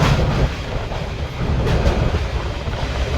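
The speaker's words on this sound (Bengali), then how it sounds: "ওই আর একটা রেল লাইন, ওটা দিয়েও কিন্তু ট্রেন যাচ্ছে।" A train runs along a railway line near the Godavari river, giving a steady, loud rumble with faint wheel clatter that lasts throughout with no voices.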